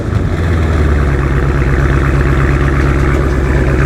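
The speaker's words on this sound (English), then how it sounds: "what a stock 392 with the race bullet mufflers on it sounds like" A stock 392 Hemi V8 fitted with race bullet mufflers idles after a warm start, a loud, steady, deep burbling exhaust rumble close by with no voices.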